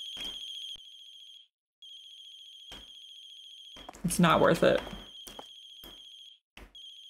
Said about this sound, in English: There's a cell phone ringing outside.